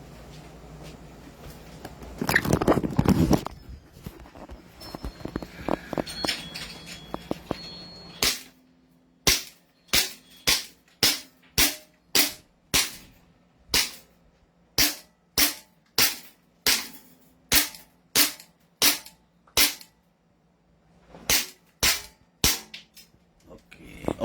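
A Beretta BLK pistol fires a long, steady string of sharp single shots until empty, after a few seconds of handling noise, then a short pause and a final few shots, with no talking.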